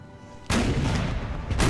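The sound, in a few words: cannon fire from a wall cannon in Napoleon: Total War video game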